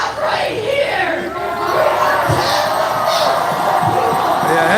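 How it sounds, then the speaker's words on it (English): Large protest crowd in downtown Minneapolis cheering and yelling outdoors, a dense, loud roar of many voices with whoops rising above it and sustained throughout. "Yeah, that's a massive crowd."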